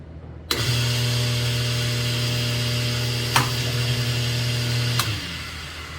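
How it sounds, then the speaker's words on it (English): A Potter USA Fast Stamping System press punches a washer with a die: a steady mechanical hum starts abruptly and runs throughout, broken by two sharp metallic clicks. "we're gonna center the die in the press, and we are going to complete our first washer"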